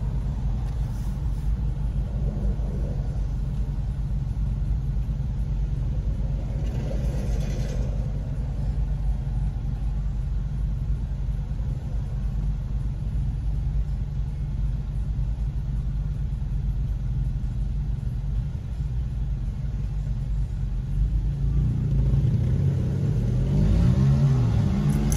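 A vehicle accelerates in Riga city traffic, a steady low engine rumble running throughout and swelling into a louder revving surge near the end, with no talk.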